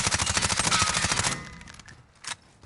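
Rapid full-auto MP5 submachine gun bursts in Modern Warfare on PS4, loud and close for over a second, then trailing off with a brief fainter shot or impact near the end.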